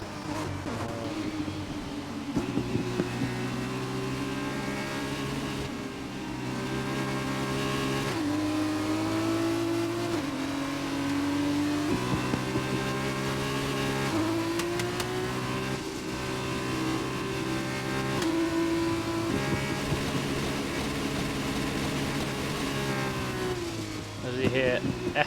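Race cars and a safety car droning along in an F1 racing video game at the British Grand Prix, with sustained engine tones that rise and fall as the cars shift, running continuously under commentary.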